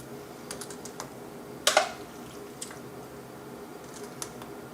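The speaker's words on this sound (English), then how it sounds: "take the tomato mixture, give it a quick stir, and then apply it evenly across the bread" Fire-roasted tomato bruschetta mixture spread across toasted bread, soft scraping and wet squishing taps, with one sharper crunchy scrape in the middle, quiet and close with no talking.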